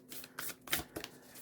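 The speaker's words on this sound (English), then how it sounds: "now I'm going to shuffle the Spirit Junkie cards" A deck of Spirit Junkie oracle cards is shuffled, with a few quick riffling bursts and soft papery flicks, close and fairly quiet, with no talking.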